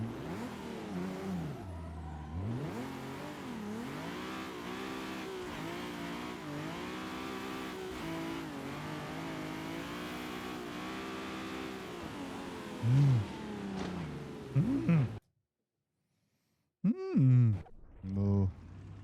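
Simulated car engine held on throttle while drifting in Assetto Corsa, a steady sustained engine drone with shifting pitch for about fifteen seconds, then brief quiet and short bursts, with talking throughout.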